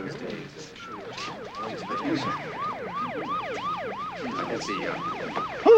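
A wailing ambulance siren sweeps up and down in fast repeated cycles, loud and fairly close, with traffic noise beneath.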